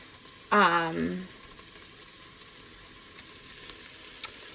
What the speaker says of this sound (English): you can probably hear the peppers and onions are cooking down